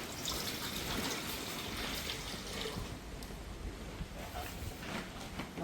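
Water splashes steadily into a cooking pot as it is filled for boiling corn, a continuous close pouring and trickling rush at even loudness with no talk over it.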